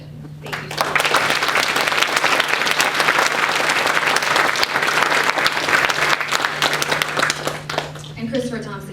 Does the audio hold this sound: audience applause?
yes